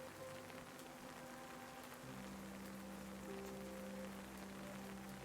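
Soft, steady rain falls on surfaces in a nighttime city, a continuous even patter with faint tones humming beneath, calm and unbroken throughout.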